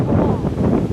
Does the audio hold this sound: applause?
no